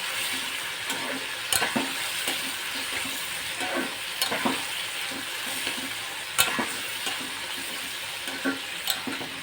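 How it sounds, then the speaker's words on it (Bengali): Prawns fry in hot oil with a steady, close sizzle, broken by sharp scraping clicks as a utensil stirs them through the pan. "এবার আমি ভালো করে চিংড়ি মাছগুলো ভেজে নেব।"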